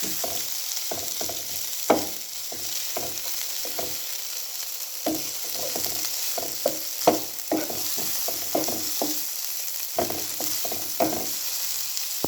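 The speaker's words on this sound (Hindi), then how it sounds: "ये मैं इसमें ऐड कर दूँगी और इसको करूँगी अच्छे से मिक्स" Boiled chicken is stirred with capsicum in a sizzling pan, a spoon scraping and tossing in irregular bursts over a steady frying hiss, close and with no one talking.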